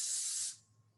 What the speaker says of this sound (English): So here's a little cooking spray just to keep them from sticking.